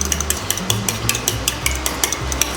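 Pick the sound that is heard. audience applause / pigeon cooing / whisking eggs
whisking eggs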